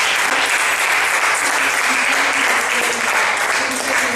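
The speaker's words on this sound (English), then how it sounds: "I might just give a round of applause because that was a great" Audience applause after a talk on borderline personality disorder treatment, a dense, sustained clapping from a crowd filling the whole stretch at steady loudness, with no talking over it.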